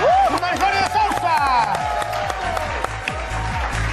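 Studio audience applauding on a Mexican morning TV show as the host welcomes actors Marjorie de Sousa and Guillermo Capetillo, steady dense clapping throughout with a voice speaking and music over it.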